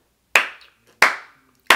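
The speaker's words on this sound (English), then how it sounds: "Round of applause for Beyoncé and the Cécred team." Three separate sharp hand claps, spaced roughly evenly and ringing briefly, close and loud with no voices.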